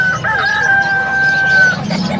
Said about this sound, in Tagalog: Iba't ibang klase ng mga manok yung pwede nyo mabili dito kay Boss Puro Noga